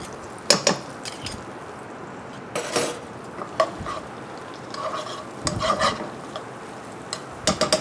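Butter, shallots and garlic hit a pan, giving a soft hiss broken by sharp scraping stirs and clinks of a utensil against the metal, irregular and close.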